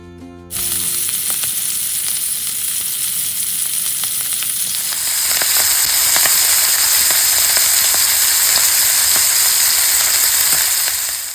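Pomfret fish frying in hot oil in a kadai, a steady loud sizzle with crackling pops throughout that grows slightly louder and brighter partway through, with no talking.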